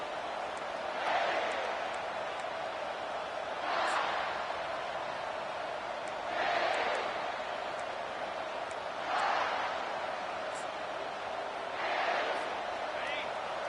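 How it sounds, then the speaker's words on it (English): A football stadium crowd at a college game roars in a steady, distant wash, with louder surges swelling every few seconds. "This crowd, full throat, splitting the eardrums and letting them know it's going to be a long day."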